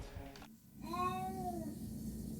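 A cat gives a single drawn-out meow close by, a rising then falling tonal cry lasting under a second, set against a quiet room murmur.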